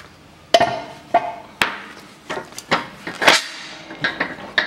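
A hammer strikes repeatedly at the rear lower arm bushing of a Citroen C-Crosser 2.4, with about ten sharp metallic blows at an uneven pace, close and loud, ringing briefly after each hit.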